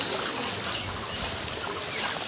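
Floodwater rushes across farm fields in a village near Duliajan, Assam, during the area's first flood, a steady broadband wash of flowing water that runs unbroken and fairly loud throughout, with no voices.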